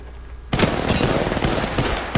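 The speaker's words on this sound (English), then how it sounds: "Listen up, I'm getting shot." Rapid automatic gunfire from a video game bursts in suddenly and stays loud and dense, a continuous barrage of shots striking the player with no gaps.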